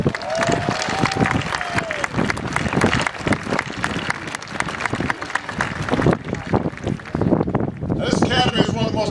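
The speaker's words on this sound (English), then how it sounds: "so give them all a big round of applause." Sustained, dense applause fills a commencement ceremony at an academy, a large audience clapping loudly and continuously throughout, with cheering voices mixed in.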